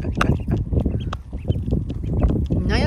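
Ducks quack close by outdoors in quick, busy bursts, one call tumbling after another without pause.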